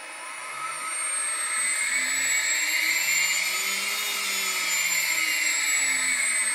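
A 2.2 kW spindle on a Millennium mini mill spins up and runs steadily, a loud, even high-pitched whine with a slowly wavering low hum beneath, heard alone without talk.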